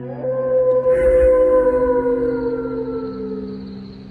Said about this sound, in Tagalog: sakto din ang pag-alulong ng aso sa labas